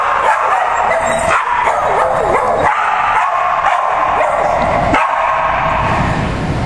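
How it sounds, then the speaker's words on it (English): A large pack of around forty dogs barking and yipping together, a loud continuous chorus of overlapping barks, yips and whimpers close by with no talk. "there are 40 dogs here today"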